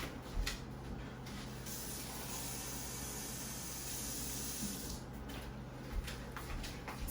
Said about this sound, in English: I'm going to add a little bit of water to help with the process and start blending.